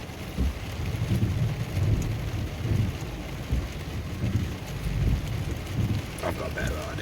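Rain falls steadily during a thunderstorm with sheet and fork lightning, with low rumbles and wind buffeting the microphone throughout, and a faint crackle near the end.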